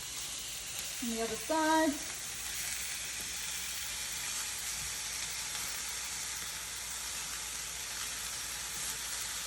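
A steak flipped in a hot pan for chimichurri steak tacos, sizzling steadily and close throughout, with a brief louder burst of spitting just after the turn and a short spoken phrase early on.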